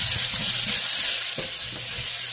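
Carrots cooking in a hot pan give a steady, close sizzle with a bright hiss throughout, and a faint low hum runs beneath it.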